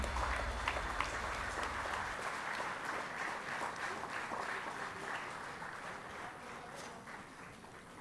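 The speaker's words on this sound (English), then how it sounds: "A huge round of applause, ladies and gentlemen." An audience at an award ceremony keeps up steady applause, a dense wash of clapping held at an even level for several seconds before easing slightly.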